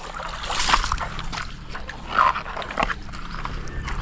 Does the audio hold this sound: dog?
yes